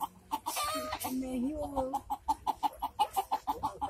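A rooster clucks in a rapid, rhythmic series of sharp calls, close by, with a drawn-out squawk early on, as it fights with a dog.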